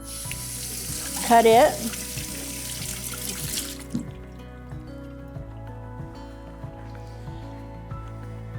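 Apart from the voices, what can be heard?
rinsing chopped red pepper under a running tap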